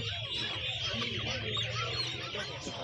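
Country chickens cluck and chatter steadily through the whole stretch, close by, with other birds and a busy poultry-market background mixing in.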